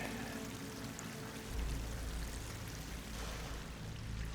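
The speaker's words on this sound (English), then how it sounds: "Water's coming in." Water pouring and rushing into an enclosed pit with slick walls in the video game Horizon Forbidden West, a steady broadband wash that swells louder partway through, with no talking.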